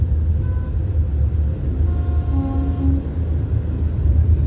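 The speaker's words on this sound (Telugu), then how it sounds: "ఈ రైల్వే స్టేషన్ ఏరియాలోకి ఎంటర్ అయిపోయామాట ఇది" A train rumbles steadily near the Vizag railway station area, a loud low drone that runs throughout. A brief horn-like tone rises over it partway through, and no one speaks.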